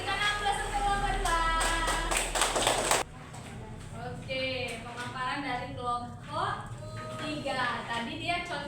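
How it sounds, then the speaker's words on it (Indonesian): A classroom bursts into about three seconds of dense group clapping for the second student group, then a teacher's voice and children's chatter take over. "berikan aplaus untuk kelompok 2"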